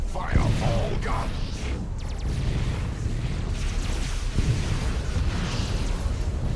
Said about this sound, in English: Fire all guns.